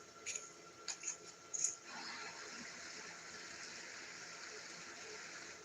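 A creek flows steadily in a broad, continuous wash of running water, heard up close after a few brief louder knocks and rustles at the start.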